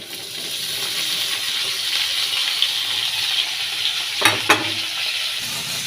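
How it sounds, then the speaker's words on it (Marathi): Okra (bhindi) and potatoes frying in a pan and being stirred, a dense continuous sizzle with occasional scrapes and two sharp metallic clinks of the spatula late on. "तर हे बघा, अशी भेंडी आपल्याला फिरवून घ्यायची आहे."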